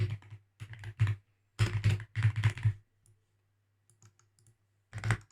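Code is being typed on a computer keyboard in close, crisp bursts of rapid key clicks separated by short pauses, with a final flurry after a quiet stretch.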